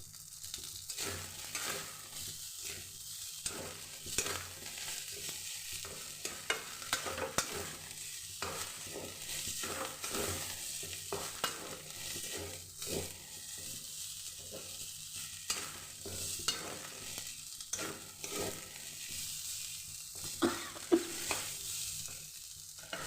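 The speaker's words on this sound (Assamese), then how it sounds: "ভাত ভাজিটো হৈ থাকক" Fried rice with fried green chillies and fish belly stirring and sizzling in a pan, steady frying hiss with repeated scraping stir strokes throughout, alone and close.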